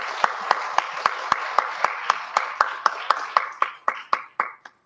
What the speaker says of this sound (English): Give all of them a round of applause.